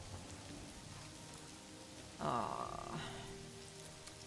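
Rain falls outdoors on a cold day as a steady, hissing patter, with a brief, louder voiced exclamation partway through.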